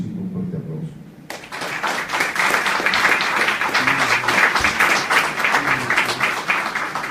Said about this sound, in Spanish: la maestra Lucero Alejandra de Alba Peña, para quien solicito un fuerte aplauso.